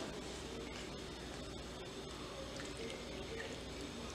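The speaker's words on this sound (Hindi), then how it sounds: "इसमें डालेंगे पानी।" Water poured into a bowl of finely ground rice and sabudana paste for a fasting dosa batter, a steady close liquid stream with soft splashing and squishing that runs throughout without a break.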